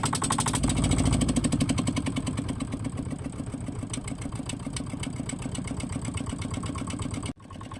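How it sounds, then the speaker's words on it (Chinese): A fishing boat's engine off Nan'ao Island fires up with a loud, close roar, then settles into a steady, rhythmic idling chug that runs continuously before cutting off abruptly near the end. "现在准备把机器启动一下，就出发去拉网了"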